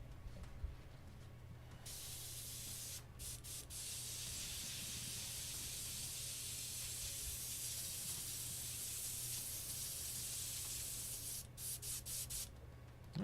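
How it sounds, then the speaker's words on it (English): An airbrush sprays lacquer thinner through its nozzle to clean out obstructions. It gives a steady, close hiss that runs for several seconds with a few brief breaks near the start and end. "Running a bit of lacquer thinner through the airbrush to clean it up a bit and clear out any obstructions"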